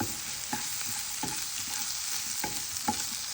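Spinach and potato fry stirred in a pan, a steady sizzle broken by about six scraping strokes of the spoon at irregular intervals, close and moderately quiet with no talking.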